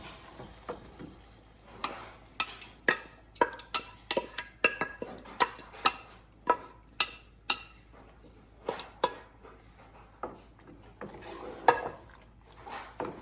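A spoon scrapes and knocks against a cooking pot as tamarind gravy with fried curry leaves is stirred, giving a steady series of sharp clinks and scrapes, close by, with no talking.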